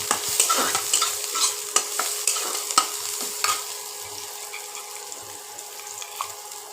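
Ginger, garlic and chilli paste sizzles in a little oil in a pan for a Bengali egg curry, a soft frying hiss punctuated by repeated scraping stirs, close and fairly quiet, without speech.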